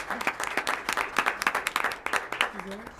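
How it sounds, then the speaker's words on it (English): Audience members at a school board meeting give a brief round of applause, a burst of clapping of moderate loudness with faint murmuring under it. "We have an applause for that."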